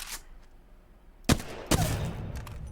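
Flatline assault rifle shots ring out in Apex Legends, a couple of sharp, loud bursts after a quieter stretch, each trailing into a ringing decay.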